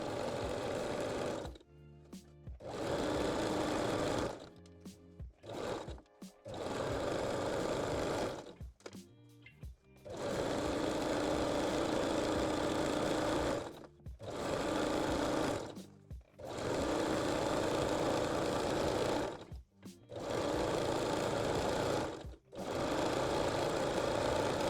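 A sewing machine stitching elastic onto lingerie fabric with a three-step zigzag, running in long steady bursts of rapid mechanical whirring separated by short pauses, loud and close with no voices.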